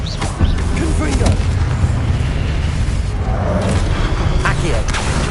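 Booming spell blasts, Confringo and Incendio, cast in the Hogwarts Legacy video game, loud explosive bursts rolling over a continuous rumbling fight mix.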